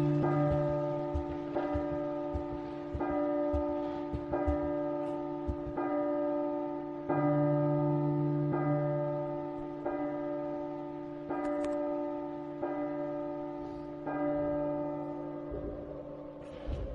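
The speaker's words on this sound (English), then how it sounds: "while the clock struck midnight, the bells tolled" Church bells toll at midnight in a chilling horror audio drama: about a dozen resonant, evenly spaced strikes ring out roughly every second and a half, their long humming overtones overlapping, with no voices.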